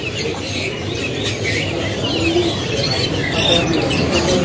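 Caged birds at the busy Pramuka bird market in Indonesia, including cak gentong, Javan opior and serindit, give off a steady mix of cooing doves and sharp chirps and squawks, fairly loud and close, with market bustle behind and no clear talk.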